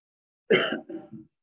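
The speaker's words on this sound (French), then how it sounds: "il y a la toux qui me dérange" A single close, loud cough or throat-clearing burst followed by two shorter, weaker rasping coughs, all over within about a second, with silence before and after.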